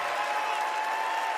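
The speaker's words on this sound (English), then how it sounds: "Applause for a civil rights icon who dedicated his life to keeping hope alive" A crowd applauds a civil rights icon at a Democratic National Convention tribute, a steady, even wash of clapping at moderate distance.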